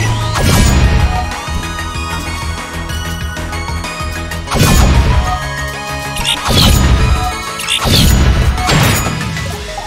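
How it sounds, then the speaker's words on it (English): Loud, repeated smashing and crashing hits in the video game KUNAI, in bursts of impacts roughly every second or two over steady game music. "I'm smashing things."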